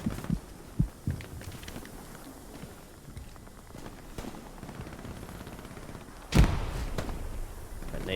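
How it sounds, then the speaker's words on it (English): A single loud, booming grenade blast in the World War II shooter Hell Let Loose, erupting about two-thirds of the way through after a few scattered dull thuds and low battlefield rumble, with a decaying rumble after it. "Nade's going off."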